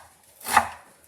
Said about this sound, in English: Next, I'm going to chop the onion.